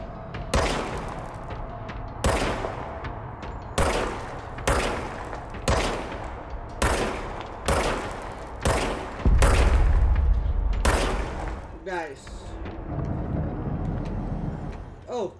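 Gunfire in the video game Control: loud, close shots in a steady rhythm, roughly one every second and a half, across the whole stretch, with a denser roar near the middle and quieter game ambience at the end.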